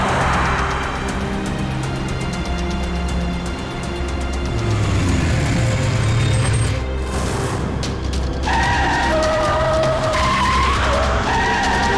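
A car skids hard with screeching tires in a near collision with a bike on a road, loud and close, the engine roaring throughout and the skid tailing off near the end.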